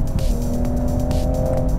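A 2023 Toyota Supra's 3-liter turbocharged engine pulls hard under acceleration, a loud, steady droning roar with rising harmonic tones heard from inside the car, no talking over it.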